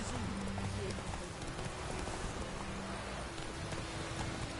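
Roach the horse galloping in The Witcher 3, a steady rapid clip-clop of hooves running under a dense noisy wash, with a voice speaking over it.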